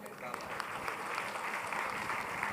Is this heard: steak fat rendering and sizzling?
no